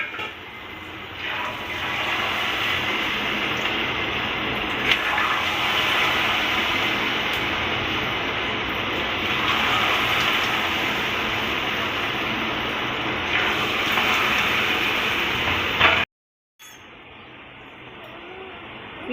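Cornflour pakoda batter frying in hot oil, a dense, steady hiss and bubbling that runs close and loud for a long stretch, then cuts out briefly before resuming.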